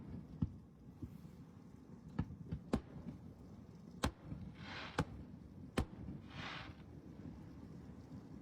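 July 4th fireworks display after heavy rain, heard as a handful of sharp, distant cracks and pops scattered over several seconds above steady wind noise.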